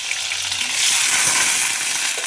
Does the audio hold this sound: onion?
yes